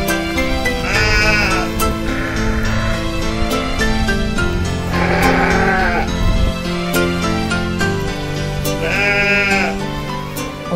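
Goats given vetch as a winter protein supplement bleat in three separate calls, roughly four seconds apart, over a dense, steady background.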